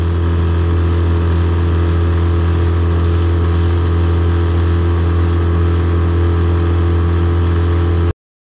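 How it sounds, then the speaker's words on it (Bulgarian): A new Tohatsu 9.8 outboard motor on a fishing boat running at full throttle, a loud, close, continuous engine drone held steady for about eight seconds before cutting off abruptly, with no talk. "След малко ще му даде пълна газ, да видим какво ще постигне."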